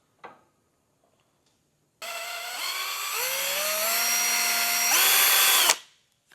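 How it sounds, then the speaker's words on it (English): Power drill boring a hole from inside a 2025 Nissan to mount a Redarc Tow-Pro trailer brake controller: a brief click, then one loud, close whine of about four seconds that steps upward in pitch before cutting off. "And we'll drill it from the inside."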